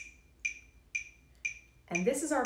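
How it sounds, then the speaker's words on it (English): Four evenly spaced metronome clicks at 120 bpm, crisp and isolated against near silence, before a voice starts speaking at the end. "120 sounds like this."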